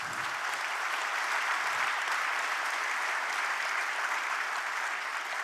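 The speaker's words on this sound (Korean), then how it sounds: "박수 부탁드립니다" A crowd claps continuously in steady, dense applause that holds at an even level from start to finish.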